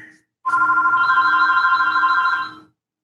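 A house phone rings loudly and up close, a steady electronic trilling burst lasting about two seconds that cuts off abruptly, following the faint tail of a previous ring.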